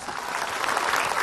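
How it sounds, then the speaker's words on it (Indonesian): An audience bursts into steady, dense applause at a religious talk for an ustadz, a brief close wash of clapping hands with no voices over it. "Tepuk tangan buat Ustadz Maulana"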